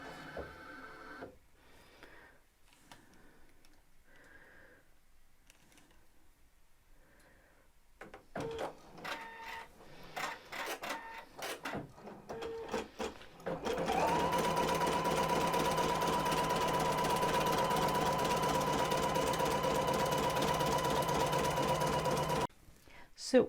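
A machine embroiderer stitches down silk fabric: after a stretch of quiet talk and handling noises, a loud, steady, rapid mechanical whirring runs without a break for about ten seconds, then stops abruptly.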